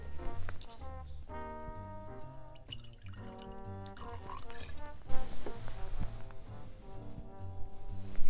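Jim Beam White Label bourbon whiskey is poured into a glass with a soft, gurgling trickle and drips, heard over background music.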